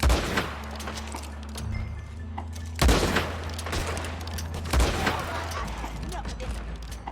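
Rapid bursts of gunfire in the online mode of the video game Red Dead Redemption 2, with loud sharp volleys at about three points over steady in-game background rumble.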